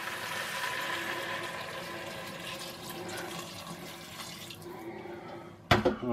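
Tap water running steadily into a pot for Finnish salmon soup, a close continuous gushing stream that thins out and stops, followed by a sharp clank of the pot.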